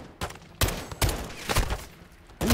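Gunfire in the Modern Warfare 2 campaign at night, several sharp loud shots in an uneven burst with short gaps between them, close and dry.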